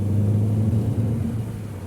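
Low, rumbling idle of a Mini convertible's engine heard up close, a steady throaty drone with slight wavering and no voices over it.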